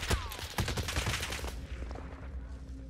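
Rapid video game gunfire during a team match, a quick volley of shots in the first half, somewhat distant and muffled, then trailing off into a low hum.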